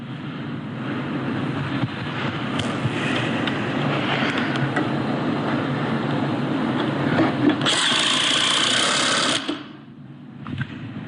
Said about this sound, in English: Once you hear the impact driver chain sound, that's probably good.